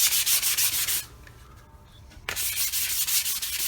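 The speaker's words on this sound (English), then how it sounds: "it wouldn't hurt to take some sandpaper and just give that a good clean" Hand sanding with fine-grit sandpaper on a 1970-72 Chevelle door part: steady rhythmic abrasive rubbing strokes, close and loud, pausing for about a second before resuming.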